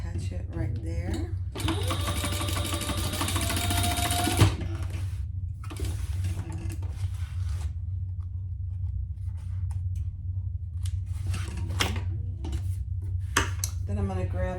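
A sewing machine stitches a strap onto a sling bag in several runs: one long steady burst of rapid needle chatter, then shorter stop-start bursts with gaps of quiet, close by and fairly loud.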